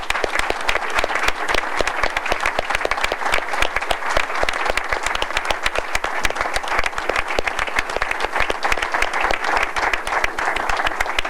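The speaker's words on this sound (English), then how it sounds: "I think all of us should give a good round of applause to Bill Gardner." An audience applauds Bill Gardner at a New Hampshire governors' event, a dense, sustained round of clapping that holds steady and loud for the whole stretch.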